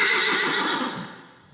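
A horse whinnies loudly and close by, a long shrill neigh that fades away toward the end.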